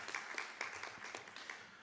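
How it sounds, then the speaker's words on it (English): Scattered applause at a citizens advisory committee meeting, honoring Christy Nichols; a modest crowd claps quietly with uneven, overlapping hand claps that hold steady for about two seconds. "a round of applause for Christy"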